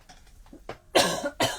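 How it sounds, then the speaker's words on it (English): A couple of short, sharp coughs close by, the last two loudest, with a brief pause between them and no talking. "Sorry, got to have a little cough."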